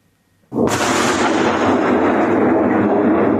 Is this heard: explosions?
yes